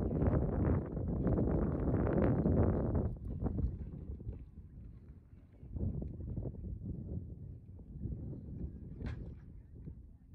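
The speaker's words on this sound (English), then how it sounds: "that wind is so loud" Strong gusting wind buffets the microphone at an outdoor horse arena, loud and roaring for the first few seconds, then easing into softer rumbling gusts with faint movement sounds.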